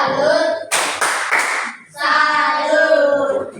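A classroom group claps a salute cheer: three sharp, loud unison claps in quick succession, then a burst of group voices chanting together.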